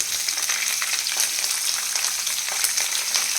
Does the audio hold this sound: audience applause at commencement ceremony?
no